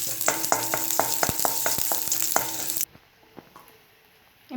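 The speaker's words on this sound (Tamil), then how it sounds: "ஆயில் காஞ்சதுக்கு பிறகு பூண்டு ஆட் பண்ணிக்கலாம்." Garlic frying in hot oil for a mint chutney, a loud close sizzle with rhythmic stirring taps that cuts off abruptly, leaving quieter faint crackles.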